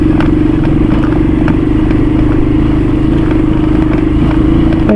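A motorcycle rides along a road in Bulacan, its engine droning loud and steady up close with clattering and scraping road noise throughout.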